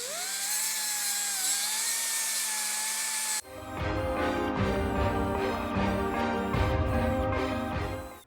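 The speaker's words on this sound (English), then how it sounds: "this is a die grinder, 60 grit 2-inch Roloc disc" Die grinder fitted with a 60 grit 2-inch Roloc disc grinding down sheet metal welds: a high whine at first, then a loud, rough rasping grind with uneven pressure changes, close and continuous.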